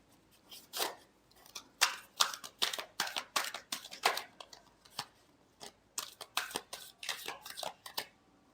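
Tarot cards being shuffled by hand in a series of crisp riffling bursts, close and fairly loud, with brief pauses between flurries and no talking.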